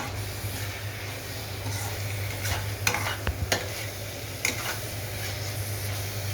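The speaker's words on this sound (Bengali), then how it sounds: "এটাও একটু নেড়ে চেড়ে দিচ্ছি।" Carrot halwa with khoa is stirred in a pan, a steady soft sizzle broken by a few scraping strokes of the spoon, close and fairly quiet, with no talking.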